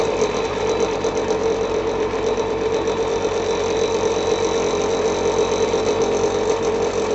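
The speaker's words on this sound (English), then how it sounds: "then we'll run the Van de Graaff again" A Van de Graaff generator runs with a steady mechanical hum and whir, a constant drone at even loudness throughout with no speech.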